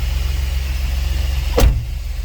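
A car engine idles cold in gear with the brake held, and the idle runs rough: a steady low rumble with one brief sharp whoosh near the end.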